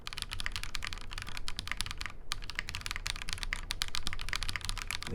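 Steady, brisk typing on a WIND X R2 mechanical keyboard in a top-mount build with no foam, dense clacky keystrokes with a few louder thocks, close and alone with no talk.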